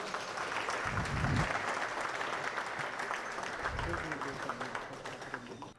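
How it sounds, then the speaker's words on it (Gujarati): Applause honouring the ceremony president at a Svayamvar gathering in a Mumbai hotel hall, a steady wash of clapping that runs the whole time with a few louder swells and voices mixed in. "તાળીઓથી આપણે સન્માન કરીએ"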